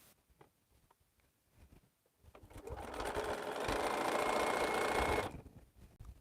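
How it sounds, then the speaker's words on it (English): A sewing machine stitches two quilt fabric strips together in one steady, close run of about three seconds, rising from a quiet room with light handling noises and stopping abruptly. "Now I'm about to sew 2 strips together."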